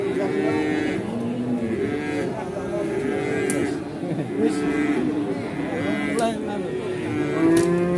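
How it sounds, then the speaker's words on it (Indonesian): Feeder cattle, including Limousin crosses, at a busy outdoor livestock market, with repeated loud moos and bellows overlapping from several animals nearby under a constant crowd murmur. "Deretan sapi bakalan, Mas. Pasar Wagenan Margorejo Pati."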